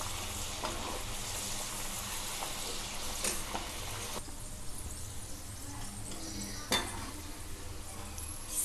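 Garlic cloves frying in hot oil for a tomato chutney tadka give a continuous soft sizzle and crackle throughout, with a couple of faint utensil clinks.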